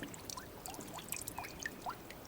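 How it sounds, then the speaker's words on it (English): Water trickles and drips beside a pond in foggy woods, a soft irregular run of small plinks and gurgles over a quiet outdoor hush, close and gentle with no voices. "I hear the soft dripping of water"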